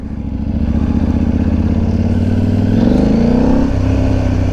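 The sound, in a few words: KTM 890 motorcycle engine while riding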